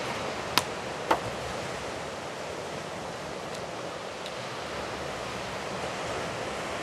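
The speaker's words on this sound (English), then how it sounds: "the sound you hear in the background are the waves of Lake Michigan" Lake Michigan waves wash steadily as a broad, continuous roar close by, with wind buffeting the microphone and two brief sharp clicks early on.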